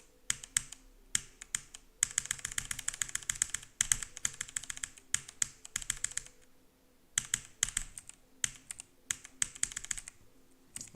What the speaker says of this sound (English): I'm gonna try this keyboard real quick.